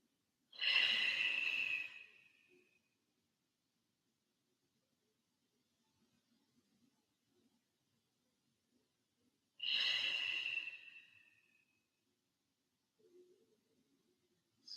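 Two slow, deep breaths during a yin yoga session, each a long airy exhale lasting a couple of seconds, close and soft, separated by quiet stillness with a faint third breath at the end.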